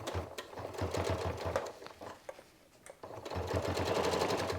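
A sewing machine stitches a narrow fabric seam close to the edge for a Christmas loop garland, its rapid needle chatter running in two close, steady bursts separated by a brief pause.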